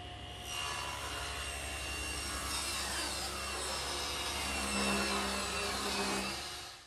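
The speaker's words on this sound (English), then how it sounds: "So I've set the saw to remove about 1/8 to 1/4 of an inch." A saw set against its fence trims a thin strip of rough edge off an expensive hardwood board, giving a continuous close, loud whining cut that holds steady for about six seconds before fading.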